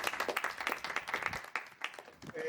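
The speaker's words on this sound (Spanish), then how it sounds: "les agradezco y un aplauso para todas ellas." At a book presentation in a café in Playa del Carmen, a small audience gives a short round of scattered clapping, fairly quiet and uneven.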